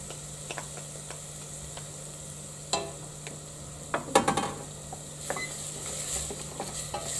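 Passata being stirred into sizzling seasoned rice in a pan, a faint steady sizzle under occasional utensil scrapes and clinks against the pan that cluster in the middle, with no talking.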